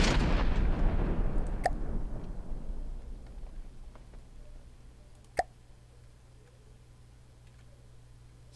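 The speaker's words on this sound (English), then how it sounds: "it'll fire a burst of all 7 rounds" A weapon in From the Depths fires a burst of rounds, one heavy blast that decays into a long low rumble, then a few sharp distant cracks and one clear bang about midway, fading to a faint hum.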